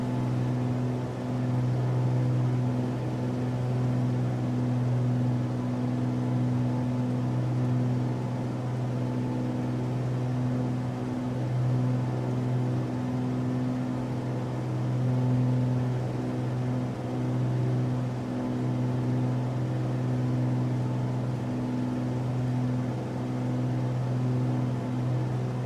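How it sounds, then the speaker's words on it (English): Steady drone of a Cirrus SR22 piston engine heard from the cockpit in Flight Simulator 2020 during cruise with throttle eased back, a constant low hum with no talk over it. "Just gonna pull back the throttle a bit there."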